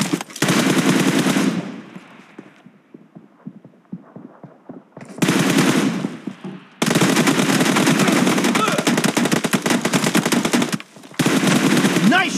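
Automatic gunfire from the PUBG Mobile video game, with an M416 rifle and an AWM sniper, comes in long dense loud bursts of rapid shots separated by short quieter gaps and brief pauses.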